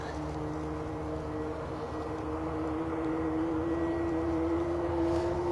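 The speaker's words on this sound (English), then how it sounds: "some great sound of an engine starting up, which I think is here" An aircraft engine starting up at Bristol Airport on a gusty day, a steady loud droning whine with a rising tonal hum that holds throughout, heard from a distance without interruption.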